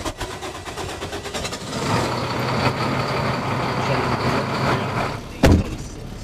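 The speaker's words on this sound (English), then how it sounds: "Very loud truck." A loud 2006 Freightliner Sport Chassis pickup truck idles nearby with a steady rumbling drone, and a sharp thump sounds near the end.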